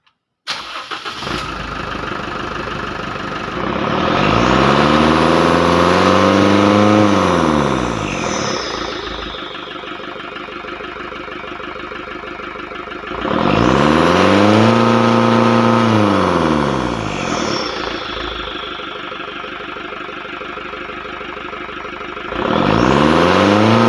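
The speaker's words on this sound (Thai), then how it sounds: "ผมก็จะไป สตาร์ท เครื่องแล้วก็เหยียบดู" A car engine with oil-fouled intercooler plumbing starts and is revved hard three times by pressing the accelerator, each loud, rising roar falling back to a steady idle between revs.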